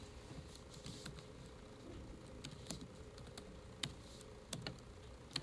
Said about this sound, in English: So for now, we're just typing in the data points.